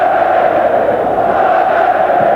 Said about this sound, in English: And the crowd are loving it.